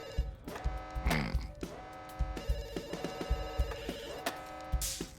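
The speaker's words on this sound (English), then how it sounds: "Please pick up the phone." A telephone rings inside a video game, a steady electronic bell tone with a harmonic stack, repeating through the stretch amid other game sounds and clicks, fairly loud and up close.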